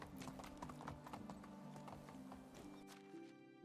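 Horse hooves clip-clop in a steady trotting rhythm while riding in the medieval game Medieval Dynasty, with a short whinny-like tone near the end, close and clear over a low game ambience.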